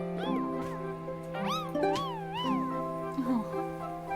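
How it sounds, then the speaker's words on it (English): A cartoonish cat meows repeatedly in the video game Paleo Pines, several rising-falling calls over a steady musical background. "Little cat. That's adorable."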